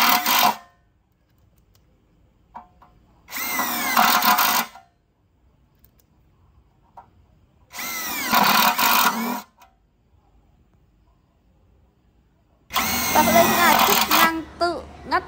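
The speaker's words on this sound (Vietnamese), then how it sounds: "em sẽ bắn vít trên hộp nhôm luôn mọi người nhá" A Boshun 230Nm cordless impact driver drives screws into an aluminum box, four loud close bursts of rapid hammering each lasting one to two seconds, separated by quieter pauses.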